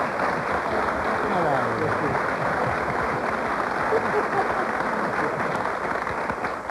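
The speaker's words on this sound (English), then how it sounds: "You can applaud." A studio audience at a 1991 television talk show applauds in a steady, dense wash of clapping that continues without a break, with voices faintly mixed in.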